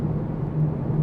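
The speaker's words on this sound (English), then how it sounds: "I'm on a very unusual road surface now, so excuse the noise." Inside a moving Citroen e-C3 electric car on an unusual, rough road surface, a steady low rumble of road noise fills the cabin without letup.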